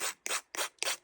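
A nail file rasps along the edge of a collage ornament in four quick, evenly spaced strokes, close up and fairly quiet, with no voices.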